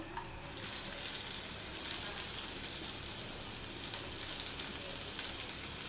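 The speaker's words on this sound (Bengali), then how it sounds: "পেঁয়াজটা আবার ভাজবো" Onions fry in hot oil with chopped garlic, giving a close, steady sizzle with scattered crackles and pops and no voices.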